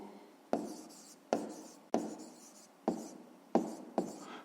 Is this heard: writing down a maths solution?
yes